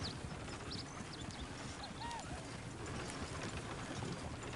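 Rapid clip-clop of horse hooves on a hard surface with a brief whinny in the video game Red Dead Redemption 2, mixed with a dense, steady background of game ambience.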